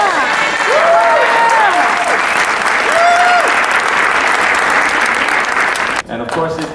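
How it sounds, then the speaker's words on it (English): An audience at a Three Kings Day ceremony at El Museo del Barrio applauds loudly and steadily, with a few voices and cheers mixed in before the clapping cuts off near the end. "So please, give them a big round of applause."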